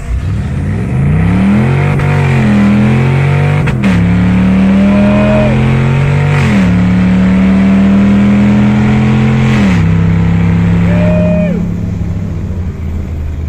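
A Mazda RX2 swapped with a Gen V 5.3 V8 accelerates on a race track. The loud, close engine note climbs repeatedly in pitch, dropping briefly at each of several gear shifts.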